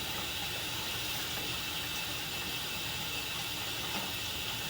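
Water rushes steadily through a drain line, a continuous even hiss with no breaks.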